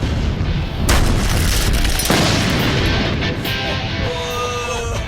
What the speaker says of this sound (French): Commençons par voir ce que donne une explosion au C4 sur un mur en parpaing test.